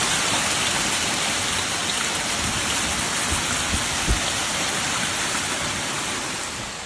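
Heavy rain from a supercell storm that brought large hail in the Nogent-sur-Mer area of France, a steady loud roar of downpour with a few faint low rumbles underneath, no voices.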